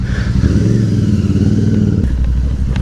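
A Royal Enfield Super Meteor 650 motorcycle idles and rumbles steadily at close range, a continuous low engine drone with a slight shift in tone partway through as the ride gets underway.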